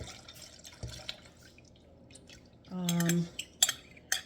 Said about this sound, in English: I'm going to pour this into a metal bowl